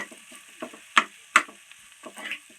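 Potatoes sautéing in oil in a pan for a spinach-potato bhaji, with a soft background sizzle broken by a few sharp spatula clicks and scrapes against the pan.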